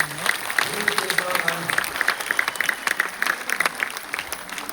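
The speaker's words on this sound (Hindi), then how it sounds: "जोरदार तालियां हमारे स्टार डायमंड" An audience at a company event claps for newly recognised star diamond members, with uneven, crackling applause mixed with cheering voices and loud talk over it throughout.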